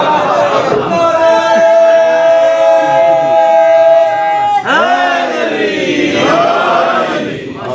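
A congregation chants a slogan for their Imam at an 8th Muharram gathering in Nuneaton, voices rising together in long sustained calls, loud and close, with a second surge of chanting after a brief break.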